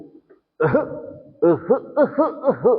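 A voice imitates coughing in a rhythmic series of short, voiced bursts after a brief pause, close and fairly loud.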